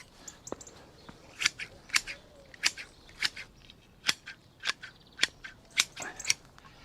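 Garden shears trim a topiary plant with a series of crisp snips, about a dozen sharp cuts in an uneven rhythm, close and clear with no voices.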